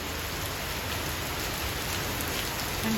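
Steady rain pours down evenly on surfaces, a dense continuous patter with no other sounds over it.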